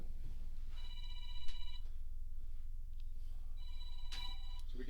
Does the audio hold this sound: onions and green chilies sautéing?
no